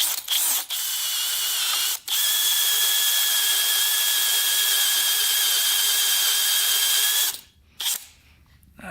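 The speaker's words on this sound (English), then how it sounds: "Alright, we've got to drill this guy out." A power drill bores out a stripped bolt on a Yamaha YZ80 dirt bike, giving a sustained high-pitched whine close by after a few short starts, then stopping abruptly, with no talking.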